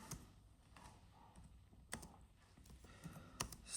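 Keys clatter on a computer keyboard in uneven bursts of typing, quiet and close, with a few sharper taps standing out and no voices over it.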